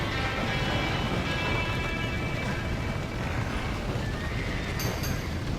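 Horses whinnying with clip-clopping hooves in Red Dead Redemption, set against rumbling, rain-like stormy ambience; a sharp neigh rises near the end over continuous loud background noise.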